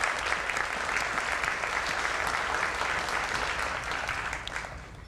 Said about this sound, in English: Let's give them a big round of applause for the dinner this evening